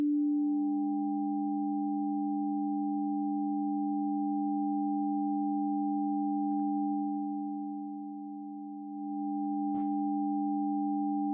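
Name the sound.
amplitude-modulated sine wave tone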